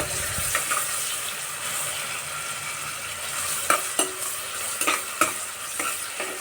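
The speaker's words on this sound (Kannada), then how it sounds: "ಮತ್ತು ಚೆನ್ನಾಗಿ ಈರುಳ್ಳಿನ ಬಾಡ್ಕೊಳ್ಳೋಣ ಎಣ್ಣೆಯಲ್ಲಿ" Onions sauté in oil with a constant gentle hiss, broken by a few sharp spoon scrapes and knocks against the pan in the second half.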